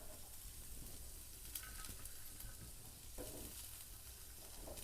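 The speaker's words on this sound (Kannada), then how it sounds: "ಉಳ್ಳಾಗಡ್ಡೆ ಮತ್ತು ಹಸಿಮೆಣಸಿನ್ಕಾಯಿನ ಫ್ರೈ ಮಾಡ್ಕೊತೀನಿ ರೀ" Onion and green chilies frying in a pan, a soft, steady sizzle with faint stirring scrapes, fairly quiet and continuous, no voices.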